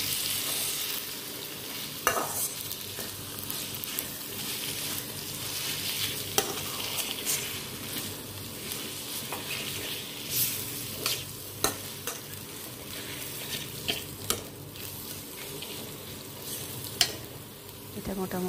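Egg bhujia is stirred into chana chotpota in a hot pan, producing a continuous sizzle with frequent spoon scrapes and light clinks throughout, near and steady, with no speech.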